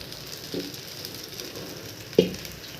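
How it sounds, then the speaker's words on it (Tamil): A dosa made with balloon vine leaves cooks its second side on a hot pan, giving a soft, steady sizzle with a couple of brief louder pops. "மறுபக்கம் தோசை வேகிறது"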